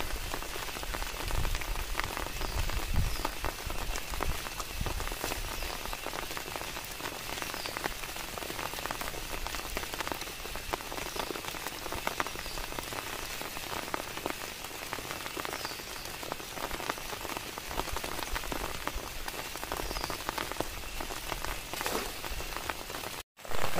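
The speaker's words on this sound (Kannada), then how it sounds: "ಇದು ವಿಪರೀತ ಮಳೆ ಹೊಡಿತಿದೆ" Heavy rain pours steadily outdoors by a small pond where a rope fish trap is set, a dense, continuous hiss of drops on surfaces with no pauses, no speech, cutting off abruptly at the very end.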